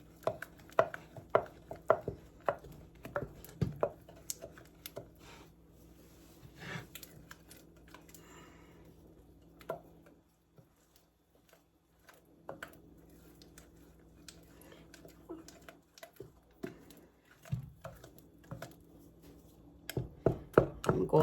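Knife chopping nuts on a cutting board for microwave fudge, a burst of sharp, fast, close taps, then pauses and a few scattered chops, with no talk over them.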